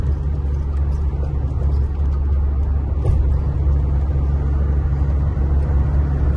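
A cargo van drives along the highway, its low engine rumble and road noise steady and loud from inside the cab, with no talking.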